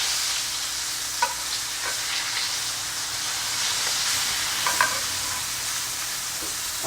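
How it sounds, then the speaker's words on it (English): Butter sizzles and burns in a hot pan while steak cooks, a steady loud frying hiss with faint clicks of stirring throughout. "Your butter's burning."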